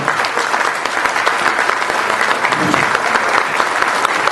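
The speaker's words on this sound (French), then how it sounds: "il faut les applaudir tout de suite" Sustained, loud applause from a large crowd honouring the officials at the prize-giving of a classic car rally, the 11e Rallye Classic Val de Sèvre 2016; a dense, even roar of clapping with faint voices mixed in.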